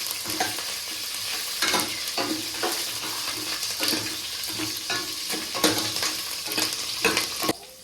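Onions, curry leaves and green chillies sizzle in a hot pan while a spoon stirs and scrapes them in repeated close strokes over a steady frying hiss, with no voices.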